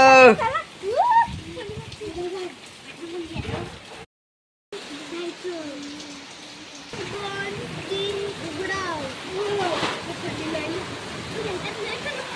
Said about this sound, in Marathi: रात्रीचा पाऊस आला आणि त्याचबरोबर असा अचानक आणि अवकाळी पाऊस आलाय